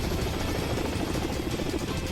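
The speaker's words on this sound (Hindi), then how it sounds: "ये रूस की नौसेना का एंटी सबमरीन अटैक हेलीकॉप्टर है" A Russian Navy anti-submarine attack helicopter flies with a loud, continuous rotor-and-turbine roar that fills the brief moment without a break.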